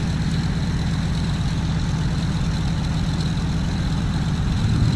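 A Nakajima Ki27 aircraft engine in the X-Plane flight simulator drones at a steady low idle during landing, a loud continuous rumble with no change in pitch or rhythm and no talk.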